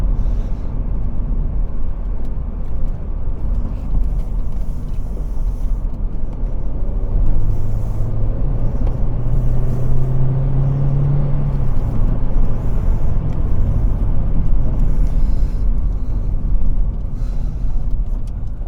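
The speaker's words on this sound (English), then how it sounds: "plenty of go from that 135 horsepower K-series engine" An MG TF anniversary edition sports car with a 135 horsepower K-series engine drones steadily from inside the vehicle, a low rumbling hum that swells slightly midway as it accelerates, with no talking.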